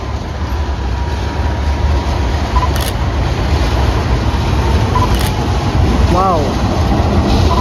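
Panoramic passenger carriages with glass roofs being shunted forward between tracks, a steady low rumble and rolling rail noise throughout, with faint squeals and a single short spoken exclamation over it.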